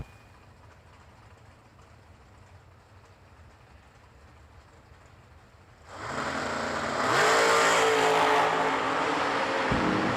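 A Malibu wagon and a gorgeous 1967 Chevy II Nova launch off the line at a drag race: a quiet crowd hum gives way to a sudden, very loud roar of engines that swells and keeps blasting close by.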